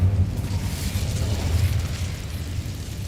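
An Incendio fire spell in Hogwarts Legacy bursts into a low, rumbling whoosh of flame that starts strong and holds steadily for a few seconds, with no talking.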